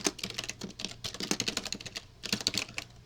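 Someone types on a computer keyboard, a quick close run of light plastic key clicks in uneven bursts with a brief pause midway, no talking.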